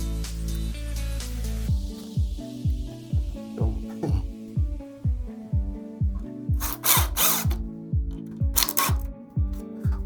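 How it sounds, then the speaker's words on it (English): A power drill drives long black screws into a wooden cabinet toe kick during base cabinet assembly, making about a dozen repeated short whirring bursts with pauses between them. The drill is close and loud, and no one speaks. "you'll use the long black screws to assemble this"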